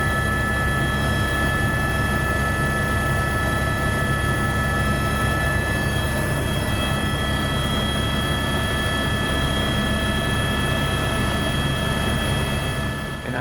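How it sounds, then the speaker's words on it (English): A steady, loud helicopter engine and rotor drone fills the air continuously from inside the cabin, with a constant high whine above the low thrum. "Helicopter ride."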